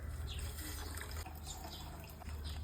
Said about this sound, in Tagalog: Lagyan natin ng maraming tubig.